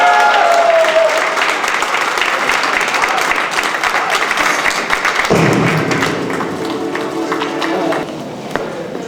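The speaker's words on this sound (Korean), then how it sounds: "박수 한번 쳐드리겠습니다." An audience at a labor union cultural rally in Korea claps loudly and continuously, dense applause that thins and fades toward the end.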